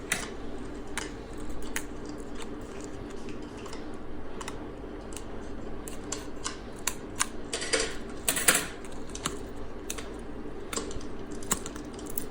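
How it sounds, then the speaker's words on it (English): Plastic packaging around an iXpand Mini USB flash drive is cut and pulled apart, making a run of sharp irregular snips, crackles and clicks over a quiet background, with one louder crinkle partway through. "Just cut the plastic out."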